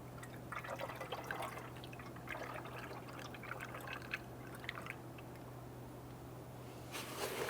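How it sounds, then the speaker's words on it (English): Coolant poured into the coolant tank of a 1992-1996 Toyota Camry 2.2L four-cylinder, a quiet trickling and dripping of liquid over a low steady hum, with a brief splashier burst near the end. "Using the appropriate coolant, go ahead and fill up that tank."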